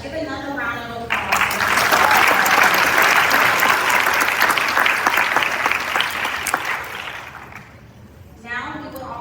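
Loud, sustained applause from a graduation ceremony crowd, full and even for about seven seconds before tapering, with a voice speaking briefly at the start and end.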